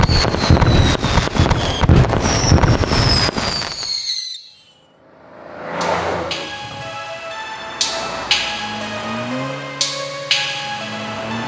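Fireworks cannons go off outdoors during a music video shoot: a dense barrage of sharp bursts and crackling, then a short lull, then more separate loud bangs with whistling tails trailing after them.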